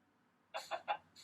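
Three quick, clipped Minecraft chicken clucks in a row, followed by a fourth a moment later, clean and electronic-sounding against near silence.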